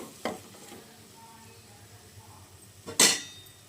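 Chicken pieces dropped into a pan of well-fried masala for chicken gravy, giving a short clatter near the start and a louder burst of sizzle and stirring toward the end, with quiet frying in between.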